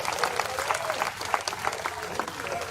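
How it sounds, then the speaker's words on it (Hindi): Crowd clapping at a village public rally in Haryana where a former chief minister is welcomed, steady dense applause throughout with a faint voice underneath. "तालियां बजाओ बस जोरदार"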